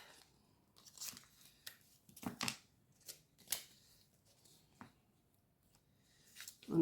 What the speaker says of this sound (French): Je vais juste le découper le plus que je peux